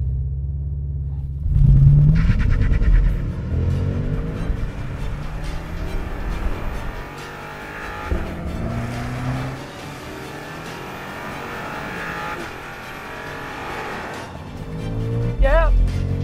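A brand new BMW M5 launches hard with launch control on an abandoned road, its engine bursting into a loud rising roar that climbs through gear changes and then eases into a steadier rumble, with someone speaking over parts of it.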